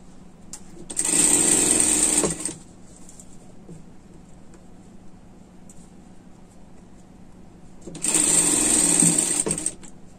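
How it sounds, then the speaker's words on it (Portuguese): A sewing machine runs in two loud bursts, each lasting about a second and a half, as it stitches a seam on a sweater. A quieter, steady pause falls between the bursts. "jogamos o excesso para cá e passamos uma costura aqui,"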